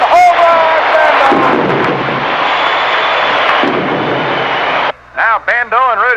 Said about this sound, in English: that one's got a chance to set off the Finley fireworks on the 4th of July